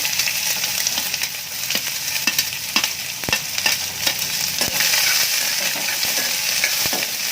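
Chopped onions frying in a pan for masala dosa give a steady close hiss, broken by sharp clicks and taps as they are stirred. No one speaks over it.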